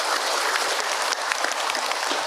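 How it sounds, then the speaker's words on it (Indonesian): Audience applauding during a religious lecture, a bright, even burst of many hands clapping that holds at a steady level throughout. "Tepuk tangan buat Bunda yang bertamu."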